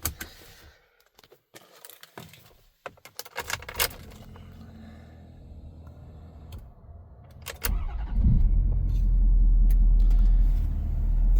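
A 2015 Ford F-450 Lariat with a 6.7 diesel is started after a few clicks and key jingles in the cab, then a deep, loud, steady diesel idle rumble settles in and continues without talk.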